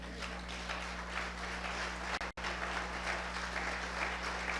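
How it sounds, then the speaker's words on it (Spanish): A church congregation bursts into loud, sustained applause that fills the whole stretch evenly, with a brief dip partway through, under a steady low hum. "Dale un fuerte aplauso al Señor."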